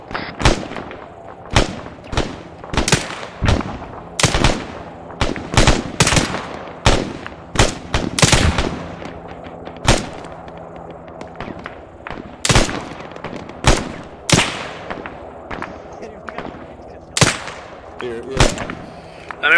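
Rapid bursts of automatic gunfire and single shots from the military shooter game ArmA 3, crackling loud and close in irregular volleys across the whole stretch, with faint radio chatter beneath.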